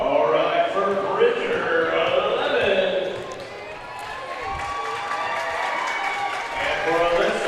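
Crowd noise from spectators at a high school three-point shootout and slam dunk contest, a steady roar of cheering and applause that dips midway then swells again, with a commentator talking over it.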